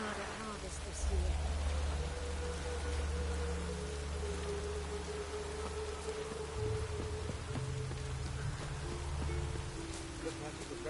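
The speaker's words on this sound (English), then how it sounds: "Looked like it would rain, and here it is." Steady rain falls in The Witcher 3, a soft continuous patter with scattered drops, under a low rumbling ambience and muted tones from the game.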